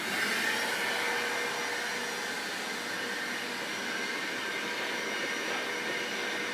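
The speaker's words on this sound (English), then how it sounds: "I think I can do it without taking it off by using a vacuum" A vacuum cleaner runs over a Mercedes V6 or V8 engine cover, a steady, hissing whine with a broad airy roar that holds at an even level throughout without pauses or talk.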